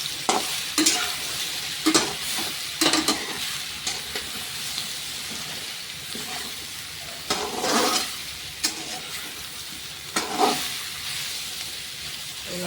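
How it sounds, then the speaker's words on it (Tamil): Taro root sizzling and hissing as it is stir-fried in a hot pan, with repeated scraping and stirring clatters at an irregular rhythm, close up. "நம்ம அப்படியே பரட்டி பரட்டி வறுக்க வேண்டியது தான்"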